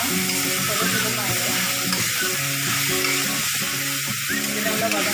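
Beetroot sautéing in a pan makes a loud, dense, continuous sizzle that stays steady, while an indistinct voice hums or murmurs faintly underneath.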